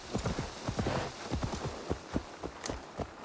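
Horse hooves clip-clop at a steady walking rhythm in the Assassin's Creed Valhalla video game, each step a close, crisp knock on the ground over soft ambient background with no voices.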